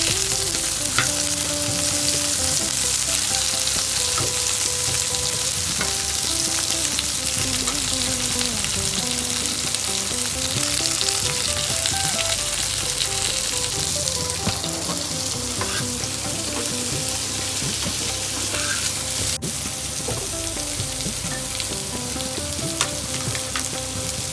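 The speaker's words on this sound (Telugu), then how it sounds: "ఇప్పుడు ఉల్లిగడ్డ బాగా మగ్గాలి కొంచెం లైట్గా" Onions frying gently in a pan give a dense, continuous crackling sizzle, close and steady for the whole stretch, with faint stirring and rattling mixed in.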